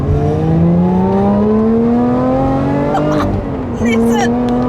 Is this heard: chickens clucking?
no